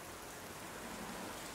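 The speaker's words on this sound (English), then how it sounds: "But I really don't think it's a good idea to go anymore. Under all this heavy rain." Heavy rain pouring down as a dense, constant hiss of drops on surfaces, steady and enveloping without pauses or voices.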